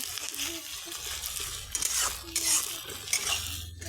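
Green chilies frying in a pan, with clattering utensil scrapes and stirring over a continuous low sizzle, close and fairly loud, while someone talks in the background.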